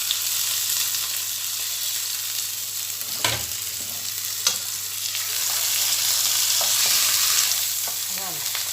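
Veal roast searing in a hot pan, a constant crackling sizzle up close with occasional knocks and scrapes as the meat is shifted and turned, no voices.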